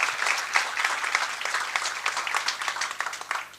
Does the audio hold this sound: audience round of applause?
yes